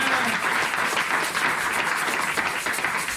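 A church congregation bursts into loud, dense applause praising the Lord, a continuous wash of many hands clapping that fills the room at close range without pause.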